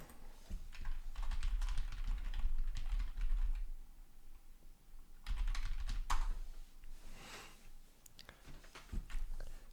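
Typing on a computer keyboard during a live stream, with bursts of rapid clicking keystrokes, fairly close, pausing briefly around the middle before resuming.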